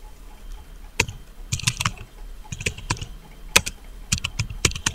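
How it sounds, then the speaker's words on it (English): Rapid clicks of a computer keyboard being typed on in a word-processing program on a PC, in short bursts of several keystrokes separated by brief pauses, close and fairly quiet with no talking. "Now here I will type diet."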